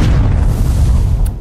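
A cannon fires in the video game Castle Wreck, played on an iPad, giving a loud, continuous low booming rumble that fills the moment, with no talk.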